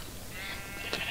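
Sheep in the video game Minecraft give a short bleat or two over a steady, hissy game background, moderately loud with no voices.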